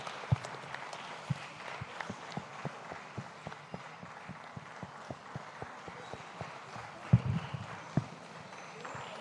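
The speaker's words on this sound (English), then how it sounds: "Please let's keep clapping for His Excellency." An audience at a Lagos model UN general assembly applauds the commissioner for basic and secondary education, with sustained clapping and sharp individual claps standing out, fairly close and loud throughout.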